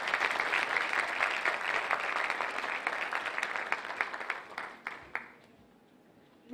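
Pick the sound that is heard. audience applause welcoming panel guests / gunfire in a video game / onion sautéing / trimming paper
audience applause welcoming panel guests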